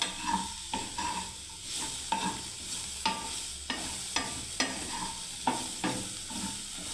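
Mixed vegetable fry sizzling in a pan over lowered heat, a quiet steady crackle punctuated by regular scraping spatula strokes about once a second, no one talking.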